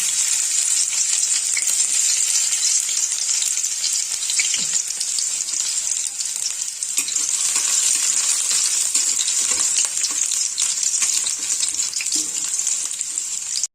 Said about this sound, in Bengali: তেল গরম হয়ে গেছে আমি এর মধ্যে এবার দেবো রসুন কুচি